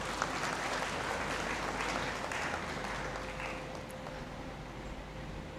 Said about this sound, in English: I think the university deserves a great applause.